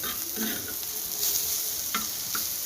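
An egg omelette with green chilli, onion, coriander and salt frying in a pan, a steady close sizzle with a few stirring scrapes and clinks scattered through it.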